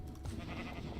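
Minecraft sheep bleating in a survival game, a short wavering bleat heard over steady low game background, moderately loud and alone without speech.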